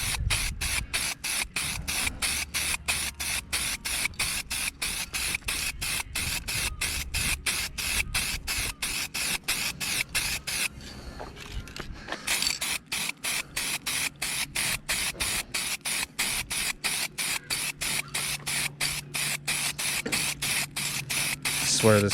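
A spray paint can lays a second coat on the trim of a 1999 Lincoln Navigator, giving a close, continuous hiss with a fast pulsing texture that stops briefly about halfway and then carries on.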